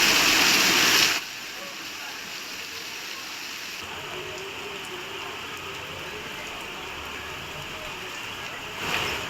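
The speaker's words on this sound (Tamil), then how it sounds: "புதுக்கோட்டை பேருந்து நிலையத்தின் மேற்கூரையிலிருந்து மழைநீர் கொட்டியதால் பயணிகள் அவதியடைந்தனர்" Rainwater pours from the roof of Puducherry's Pudukkottai bus station, a steady hissing splash that carries on throughout, with a louder burst of rushing water at the very start and a brief swell near the end.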